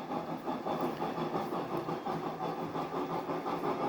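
Model train locomotive from BLI with a TCS sound decoder and Tangman speaker climbing a 2% grade around a curve, giving a steady, chuffing engine drone with a rhythmic pulse, moderately loud and close with no talking.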